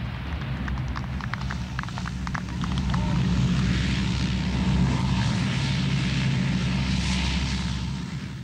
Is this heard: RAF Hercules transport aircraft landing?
yes